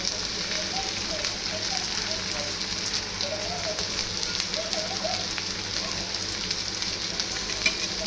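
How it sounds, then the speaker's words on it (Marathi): Chopped onion fries in hot oil for egg bhurji, a continuous close crackle and sizzle with a light, uneven texture throughout and no clear talking. "कांदा थोडासा लालसर भाजून घ्यायचा."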